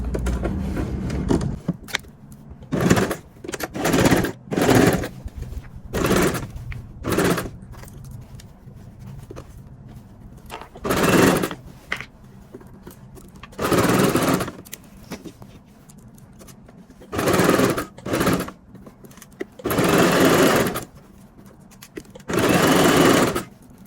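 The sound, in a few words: sewing machine stitching trouser crotch seam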